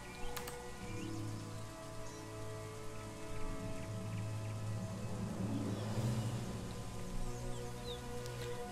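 Steady rain falls in the dinosaur survival game The Isle, a continuous soft patter that holds at an even, moderate level throughout, with faint bird-like chirps scattered over it.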